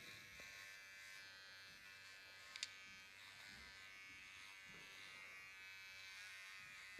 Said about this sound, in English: So you have one length on this clipper.